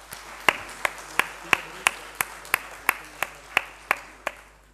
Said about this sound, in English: I would request you all to welcome him with a huge round of applause.